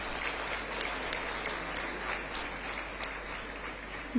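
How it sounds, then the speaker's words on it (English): Steady applause from a crowd at an annual event in a convention hall fills the whole stretch, even and sustained, with no one speaking over it. "Let's give Varshini another big round of applause."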